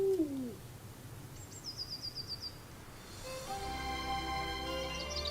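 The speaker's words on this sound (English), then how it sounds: "A rare sight during the day, an eagle owl." An eagle owl in the rocky Middle Rhine Valley gives a short series of repeated calls, with other birds singing around it against a quiet outdoor background.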